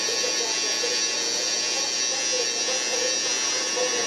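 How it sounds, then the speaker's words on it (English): Electric hair clippers run close by with a steady, loud buzz while trimming hair for a low taper, held vertically to blend the corners, unbroken across the whole stretch. "Hold our clippers vertically and just connect the two."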